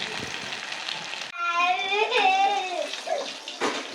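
Tap water running while something is washed at home, a close, loud splashing gush that starts abruptly partway through and keeps going, with faint voices in the background.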